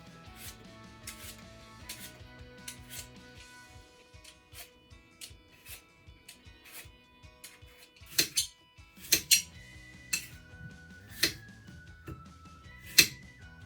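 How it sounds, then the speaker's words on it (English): Knife work on Cox apples, coring, peeling and cubing them, gives steady soft cutting strokes followed by several sharp clinks of metal against a dish, close up and with no talk. "We need to core them, peel them, and cut them into 1 centimetre cubes."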